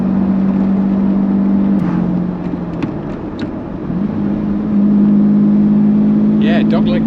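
A Lamborghini Diablo SV engine drones steadily from inside the cabin, dipping and then rising again as the revs climb, while people talk over it.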